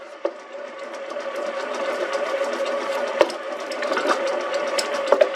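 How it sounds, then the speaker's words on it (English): A bread machine kneading gluten-free dough, a steady mechanical whir with a rattling, ticking texture and a few sharp knocks, running on its own with no one talking. "I hope you can hear me over the bread machine"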